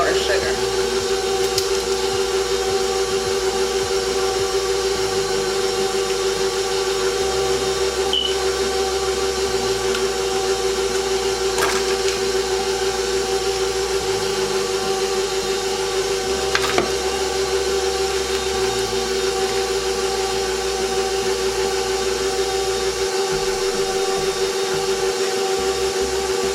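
An electric stand mixer runs on stir speed, beating vanilla and powdered sugar into a banana-flavored icing, giving a steady, loud motor hum with even whirring throughout.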